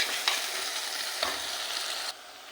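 Green chillies, garlic and masala sizzle steadily in a hot oiled pan while a spoon stirs them in a few soft scraping strokes, close and moderately loud, before the frying hiss drops abruptly near the end.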